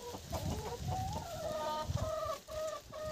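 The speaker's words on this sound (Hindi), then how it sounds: "आप हैं मुर्गियाँ" Hens clucking steadily at a resort garden among banana and guava trees, several birds close by with repeated short calls and a few drawn-out tones, no talking.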